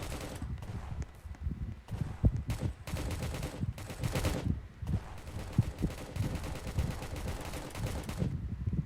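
Rapid bursts of gunfire in the Roblox game Prison Life ring out as a steady crackle of repeated shots, fairly quiet and continuous, with no talking.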